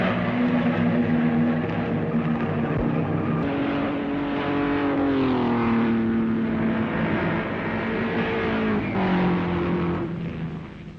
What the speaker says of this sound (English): So Brabham ignores his pit and fights to stay ahead on worn-out tyres, with Moss gaining on him every time round.